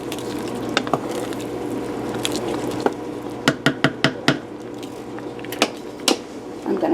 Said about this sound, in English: give it one more good stir.